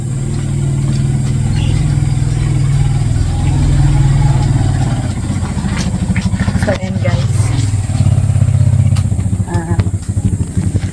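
A motorcycle engine runs loud and close, a steady low idle that rises as the bike revs and pulls away on a mountain trip, with a person talking over it.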